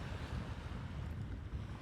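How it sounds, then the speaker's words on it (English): Ocean waves wash steadily onto the shore, a soft, continuous surf rumble with some wind noise, faint and unbroken with no voices. "so that we could hear these beautiful waves behind us"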